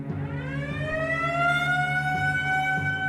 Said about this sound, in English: Warning sirens are sounded on Hilo at 8:30 that night.